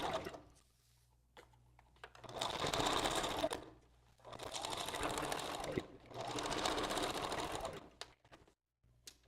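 Sewing machine stitching a wig, running in three sustained bursts of steady whirring separated by short pauses, close and fairly loud with no talk.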